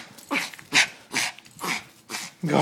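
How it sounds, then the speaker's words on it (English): A puppy barks on command: five short, sharp yips in an even rhythm, close and fairly loud, with no talking over them. "Ah, who's a happy puppy? Speak, speak, speak."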